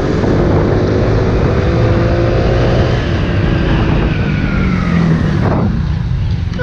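A Honda Pop 110 motorcycle from 2022 revs up and pulls away, its engine note climbing in pitch over several seconds as it accelerates loud and near, with wind rush throughout and the tone dropping near the end.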